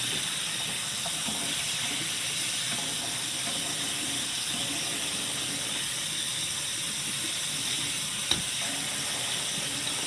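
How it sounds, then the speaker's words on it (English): Water pours steadily into a pan to create steam for a spinach and ricotta ravioli bake, a continuous close rushing splash with no talk over it. "So I'm not gonna put too much water in here."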